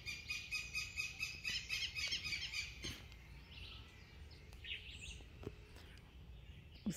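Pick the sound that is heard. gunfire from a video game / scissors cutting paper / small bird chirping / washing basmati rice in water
small bird chirping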